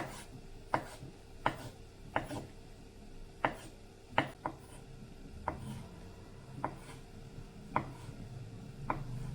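Sharp knife chops through turkey sausage land on a cutting board one at a time at an uneven pace, about ten strikes with quiet gaps and no talking.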